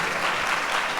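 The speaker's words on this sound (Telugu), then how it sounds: "గట్టిగా చప్పట్లు కొట్టి దేవుని యందు ఆనందించండి." A church congregation claps loudly and steadily during a Telugu Christian sermon, a dense, continuous wash of many hands with no gaps, close and full throughout.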